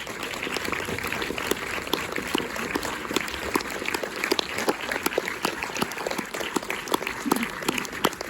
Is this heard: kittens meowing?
no